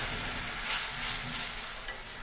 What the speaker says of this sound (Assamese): পিঁয়াজখিনি ভাজতে এতিয়া সোনকালে সিজে